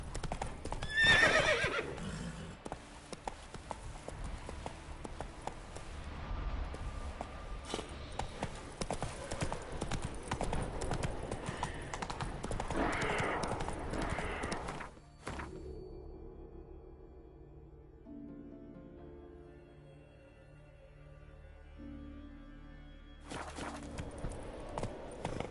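Roach, the horse in The Witcher 3: Wild Hunt on PS5, gallops with brisk clip-clop hooves and neighs early on, the hoofbeats fading into a quieter stretch of game music before resuming.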